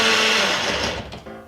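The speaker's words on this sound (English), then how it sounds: "You can tell I'm not used to blenders." A blender whirring through protein ice cream, a loud, close, high motor roar that holds steady, then drops and sputters near the end.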